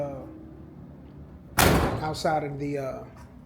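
A 1977 Oldsmobile Cutlass door shuts with a solid, close slam, followed by a smaller thud, with someone talking before and after.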